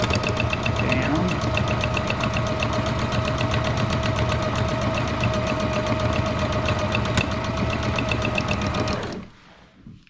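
A sewing machine stitches fabric mask pieces in one continuous loud run, its rapid mechanical rhythm steady for about nine seconds before stopping abruptly.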